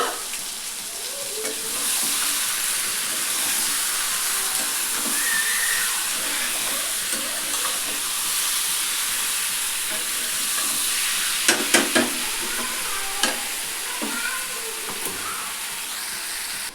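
Ginger, garlic and chillies sizzle steadily in hot oil for a chicken curry, with a continuous close frying hiss and a few sharp clinks and scrapes of a utensil stirring the pan near the end.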